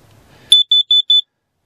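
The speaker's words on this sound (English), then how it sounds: "you can just uh, push this little button and test it." A built-in carbon monoxide detector in an RV sounds its test alarm after a faint rustle: four loud, shrill electronic beeps in an even rhythm, close by and alone.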